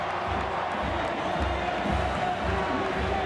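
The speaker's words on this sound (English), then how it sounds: "Crowd's back into it here." A big stadium crowd roars steadily at a college football game between Auburn and South Carolina in 2006. The cheering is a constant wash of noise with low rumbling swells and no break.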